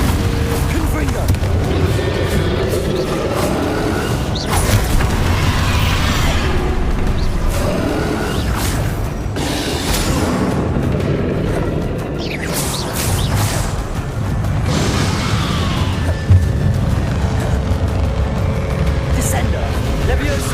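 Confringo fire spell blasts in Hogwarts Legacy, repeated booming bursts scattered through dense battle noise with a voice speaking over the action.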